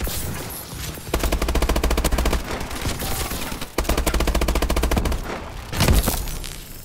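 Rapid automatic gunfire from the Bal-27 rifle in Call of Duty Advanced Warfare, loud sustained bursts with short pauses between them, sounding close and dominant.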